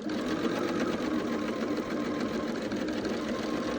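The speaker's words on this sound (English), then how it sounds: "And sew to the seam." A sewing machine stitching a quilt seam, running continuously with a steady, fast mechanical whir and rhythmic rattle, close and prominent throughout without talk.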